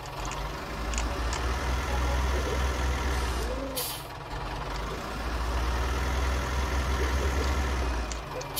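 A tractor engine idles steadily near a stable in a low continuous rumble, with a brief hiss partway through and faint background sounds over it.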